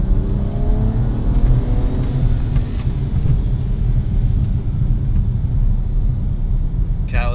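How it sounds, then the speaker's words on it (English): A BMW 135i with an Agency Power turboback exhaust, including catalyst downpipes, resonated mid pipes and a rear muffler with titanium tip, gives a steady low rumble while cruising close up, with a brief sharp noise at the very end. "is the agency power exhaust."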